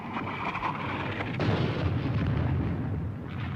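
Japanese artillery fire in a World War II war film rolls as loud, continuous booming rumble, deepening and intensifying after the first second into a heavy, sustained barrage with no speech.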